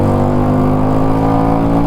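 Musatti Dark Pow 250 chopper motorcycle with a 250cc engine and original exhaust, a loud, steady, deep rumbling idle or low rev held close and constant with no talking.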